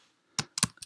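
A few quick, crisp keyboard key presses tap in close succession, near and fairly quiet, with no voices.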